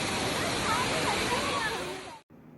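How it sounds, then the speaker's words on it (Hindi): A mountain stream and waterfall at Kiwai in Shogran Valley roar with loud, dense, constant rushing water close by, then the sound cuts off abruptly just before the end. "ज़रा पानी के शोर सुने आप।"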